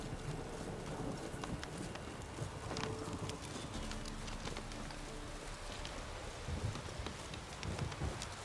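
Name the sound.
horse galloping in a video game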